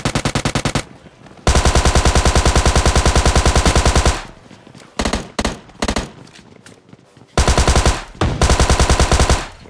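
A Tommy gun fires in PUBG Mobile Lite as loud, rapid automatic bursts, some long and sustained, others short and choppy, separated by brief pauses.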